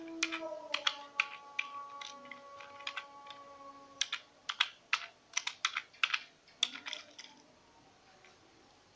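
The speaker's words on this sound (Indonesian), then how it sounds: "Oke, kita coba ketik." Computer keyboard typing during a test of an FSK modem setup built around a TCM3105 chip with Raspberry Pi and Arduino, an uneven run of clicky keystrokes, close and clear, over a faint steady electronic tone.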